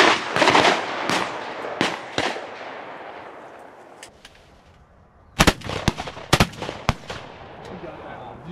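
Shotgun blasts crack out at a quail tower shoot, several loud reports in an irregular sequence with a quieter gap between bursts, the last cluster of shots coming close together.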